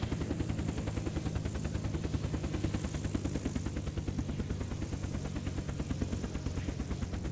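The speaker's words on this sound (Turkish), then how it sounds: "Arkadaşlar ben şöyle helikopteri şu boşluğa indireceğim." A helicopter in the survival game Unturned comes in to land, its rotor giving a loud, steady rapid chopping that runs throughout without any talk.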